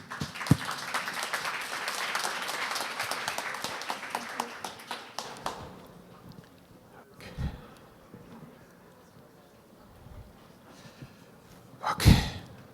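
An audience at an innovation conference applauds to welcome a guest speaker, with a clear burst of clapping that dies away over about five seconds, followed by quiet room noise, a few scattered claps and a sharp bump near the end.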